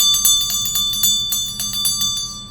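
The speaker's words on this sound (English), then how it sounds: "So let me ring my bell." A peacock hand bell shaken rapidly indoors, a bright metallic jingle of many quick strikes in an uneven rhythm, loud and close with lingering high ringing and no talking.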